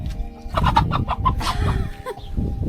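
Chickens clucking close by in a quick run of short, loud, overlapping clucks, with no voices.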